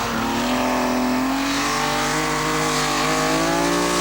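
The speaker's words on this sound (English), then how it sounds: "Then comes Ingvar Kaufsen with the BMW 323" BMW 323 rally car on a special stage at a 1985 rally, its engine loud and close, revving hard and climbing in pitch through the gears, with a continuous buzzing drone throughout.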